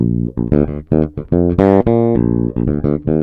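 Plucked Fender bass guitar on the bridge pickup alone, playing a funky, punchy line with a bright, nasal tone, notes clear and separate, no other instruments.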